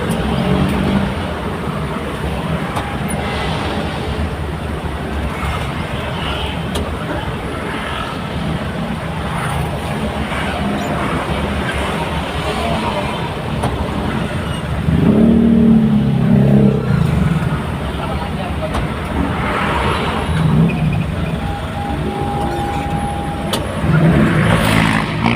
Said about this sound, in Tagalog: Kailang magpila-pila sa isang traffic.